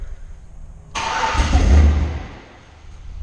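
A supercharged Chevy-powered Jeep engine cranks and catches with a sudden loud roar, swells briefly, then sags and fades as it fails to stay running.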